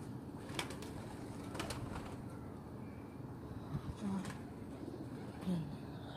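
Pigeons or doves from a day's hunt give a few soft coos amid broadband outdoor noise and scattered clicks, faint and intermittent.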